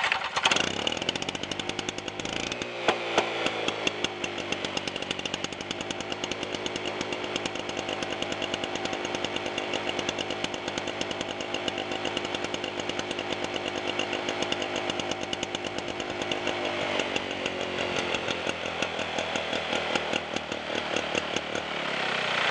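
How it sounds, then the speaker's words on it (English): A 1985 Toro push lawn mower's small engine runs steadily and loudly throughout, a continuous buzzing drone with a rapid firing rhythm and no voices. "That's how a mower should run."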